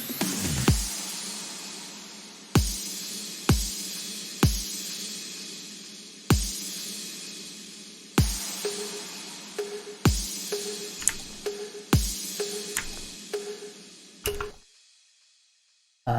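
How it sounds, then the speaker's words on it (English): Electronic drum hits from a dance music remix, sharp punchy kicks and percussive strikes landing at intervals with fast decays, alone, ending in a tail of silence. "So next we have some of the drums, and they sound like this."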